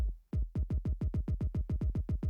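A deep kick drum repeats steadily on its own, each thump punchy and low with the upper crack rolled off, about six hits per second.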